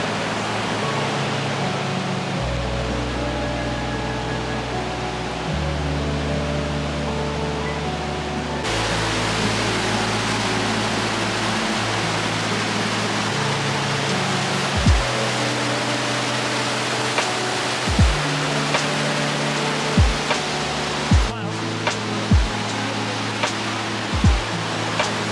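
A rushing river wave in Munich, with snow on the ground, roars loud and constant, like broadband water noise. Several sharp low thumps come in the latter half, and no one talks.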